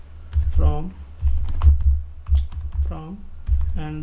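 Code typed on a computer keyboard in bursts of quick, close key clicks, heard under someone talking throughout.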